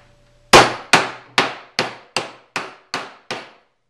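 Eight sharp hammer taps land on a board set against a sheet of drywall in a steady, evenly spaced rhythm, each a crisp knock with a brief ringing decay, close and loud.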